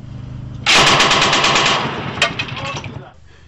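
A 12.7 mm machine gun fires from the YAK remote-controlled surveillance and weapon platform, a loud, rapid burst of shots starting abruptly after a brief lull and continuing for about two and a half seconds before fading.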